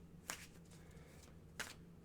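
Tarot cards shuffled in two quick, crisp riffles about a second apart, faint and close against a quiet room.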